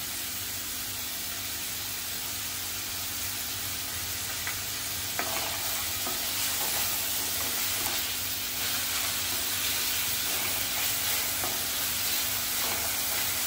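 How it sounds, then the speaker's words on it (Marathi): Onion frying and softening in a pan with salt added, a steady close sizzle that runs continuously with faint stirring scrapes and no voices. "शिजवायचा आहे मऊ आपल्याला कांदा। कांदा लवकर शिजण्यासाठी आपण थोडं मीठ टाकूया।"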